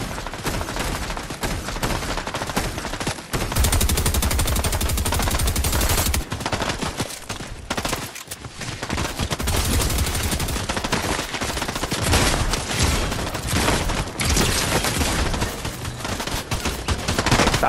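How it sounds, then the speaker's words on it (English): Dense automatic gunfire in the Fortnite video game, with rapid continuous bursts and overlapping shots that stay loud and almost unbroken throughout. "Stop shooting at me."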